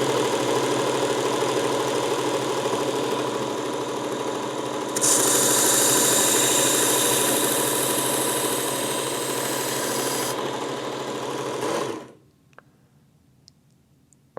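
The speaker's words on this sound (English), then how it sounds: "So I'm going to sharpen this side one more time to try and get a more consistent reveal on that bevel" A Work Sharp Ken Onion electric knife sharpener runs steadily with a motor hum, a brighter grinding hiss rising as the blade is drawn across the belt, then the machine shuts off and spins down to near silence.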